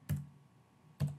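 Two separate key presses on a computer keyboard while entering a number, each a sharp close click about a second apart, with quiet hum between and no voices.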